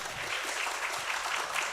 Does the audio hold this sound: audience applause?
yes